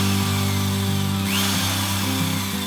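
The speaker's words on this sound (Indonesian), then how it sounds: "Itu pakai bor ukuran berapa? Ini pakai bor ukuran 5." An electric drill with a 5 mm bit whirs steadily at close range, its motor pitch wavering slightly as the bit bites into material.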